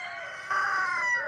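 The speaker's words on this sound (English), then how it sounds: "This chicken got some nerve." A chicken strolling past outdoors at a property where figs are being potted gives a loud, drawn-out crowing call with clucky harmonics, close to the mic and rising in strength halfway through, with no talk over it.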